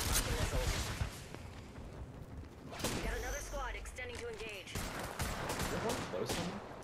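Gunfire from the Apex Legends video game, with bursts of shots running through the clip and a player speaking over the shooting.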